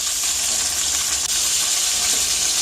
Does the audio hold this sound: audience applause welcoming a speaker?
no